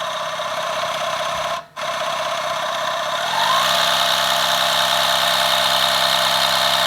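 Philips Sonicare Power Floss 7000 water flosser running with a steady motor hum that cuts out briefly and then comes back stronger and louder at a higher setting, close by.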